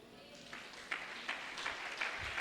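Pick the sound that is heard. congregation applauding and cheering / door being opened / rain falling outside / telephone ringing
congregation applauding and cheering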